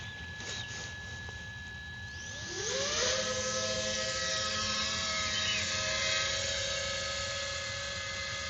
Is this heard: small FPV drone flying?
yes